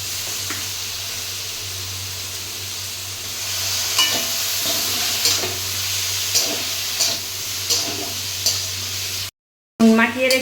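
Banana stem, eggplant and pumpkin greens fry in a kadai with a steady loud sizzle and hiss, punctuated by repeated scraping stirs. The sound drops out briefly near the end and then returns.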